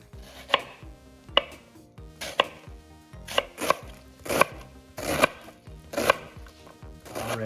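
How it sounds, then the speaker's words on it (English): A knife chopping vegetables and bacon on a cutting board, with about eight sharp, evenly spaced thuds and short scraping strokes between them, close and clear with no talk. "now I am going to be chopping the vegetables up and the bacon"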